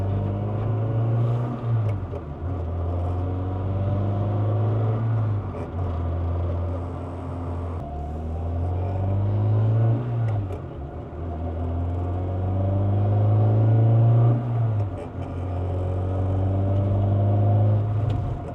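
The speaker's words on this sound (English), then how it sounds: "Let's go and put her down back on the ground and take her for a test drive." A 1996 Honda Integra Type-R DB8 is driven on a night test drive after a full clutch system replacement, its engine droning and rising through repeated gear changes, steady and close from inside the car.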